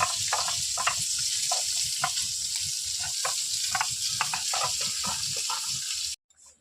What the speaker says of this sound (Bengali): আমি একে একে রুই মাছগুলো সুন্দর করে এভাবে ভেজে নিই